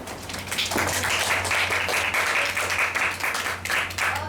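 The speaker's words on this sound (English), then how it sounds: "let's just give them a big clap" A classroom of students claps for classmates after an English lesson presentation, a steady burst of group applause over a low electrical hum, fairly close and even for a few seconds.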